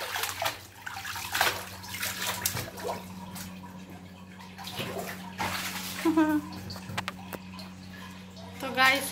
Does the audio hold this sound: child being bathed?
yes